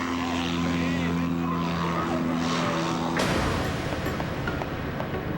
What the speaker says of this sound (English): Apparently, the throttle stuck, and the airplane began its journey.